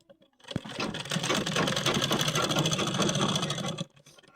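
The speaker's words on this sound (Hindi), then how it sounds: "चलिए इसको भी हम सिल लेते हैं।" Sewing machine stitching the belt strip onto the waistband of a four-panel petticoat, a steady rapid mechanical chatter running close and loud for about three seconds before stopping, with no talk.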